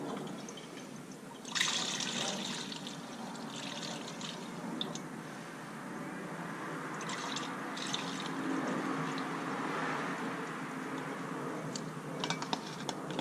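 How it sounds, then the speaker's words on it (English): Coolant is poured through a funnel into the expansion tank of a 2007-2013 Mini R56/R55, giving a steady close liquid trickle with small splashes and a few clicks, and no talking. "next job is just to insert a funnel, put your coolant back in"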